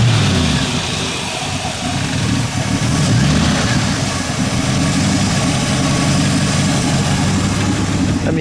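A 1971 Ford Mustang Mach 1 with a 351 Ram Air V8 idles with a loud, steady, rumbling burble up close after a brief throttle swell at startup.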